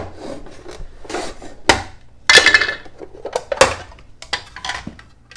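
A vegetable, a little too wide for the blade, is pushed across a mandoline slicer in a series of irregular rasping strokes, each a short scraping burst with brief pauses between, close and fairly loud.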